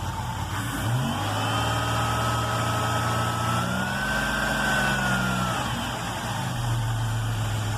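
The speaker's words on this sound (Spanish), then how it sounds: "Vamos a acelerar el carro" A Pontiac Grand Am engine idles, then climbs into a sustained rev with a rising whine and settles back toward idle, steady and fairly close, with no voices.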